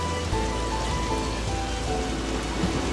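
Steady rain pours onto a hard surface in a dense, continuous patter. It holds at an even level throughout, with no voices.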